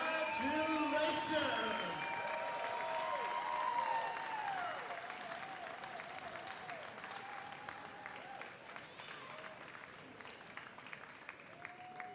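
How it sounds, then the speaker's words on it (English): A gym crowd at a women's basketball game gives the 2022 NNU softball team a round of applause, loud at first and then tapering off, with voices over the clapping. "Let's have another round of applause"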